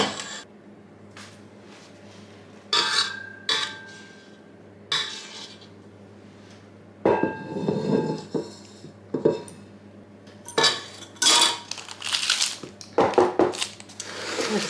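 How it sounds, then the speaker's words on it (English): Ginger cake batter is scraped and spooned from a bowl into two cake tins, with sharp metallic clinks and scrapes in irregular bursts between quieter pauses, close and clear. "I'm just going to divide this between the 2 tins,"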